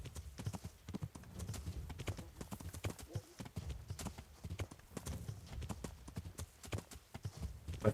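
Horse galloping in the game Kingdom Come: Deliverance, with steady rapid hoofbeats close up throughout and a brief whinny-like snort, continuous and fairly loud.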